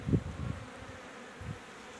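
Honeybees hum around an opened hive during an inspection before the acacia bloom, a low buzzing drone with a few louder passes of bees flying close.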